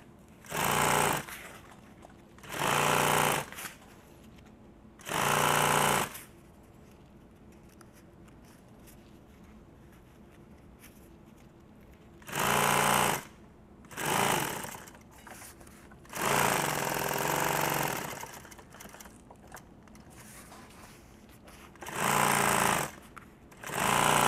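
Sewing machine hemming nylon fabric for a mag pouch, rapid mechanical stitching bursts of a few seconds each, repeated several times with quiet pauses between.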